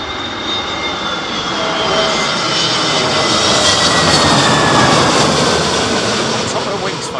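Airliners land at Heathrow Airport in strong stormy wind, engines producing a loud sustained roar with whining tones that swells and eases, and a voice talking over the noise.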